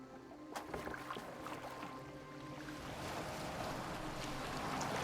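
A small boat is rowed in the video game Assassin's Creed Valhalla, with oars splashing and water washing against the hull under a soft wind. A few knocks come early on, and then the steady swash of water grows slowly louder.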